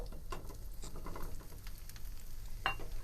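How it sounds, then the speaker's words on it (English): Eggplants sautéing in regular oil in a pan, a faint crackling sizzle with a few light stirring scrapes and one sharp clink of a utensil near the end. "we're going to add the eggplants and we're going to saute them for a bit"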